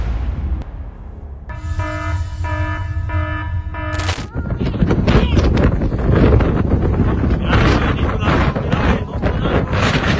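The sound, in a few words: strong gust of wind on a flat roof in Texas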